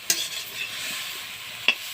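Leafy greens (shak) frying quietly in a pan, a soft steady sizzle with two brief sharp clinks of a stirring utensil against the pan.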